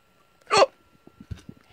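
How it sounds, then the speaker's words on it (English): A child lets out one sharp, loud hiccup, with faint soft sounds and quiet movement afterwards in an otherwise quiet indoor room. "that's hiccups"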